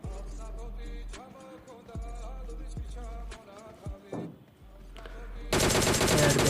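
Gunfire in the mobile battle royale game PUBG Mobile Lite: a string of separate sharp shots spaced about a second apart, ending in a loud, dense burst of continuous fire.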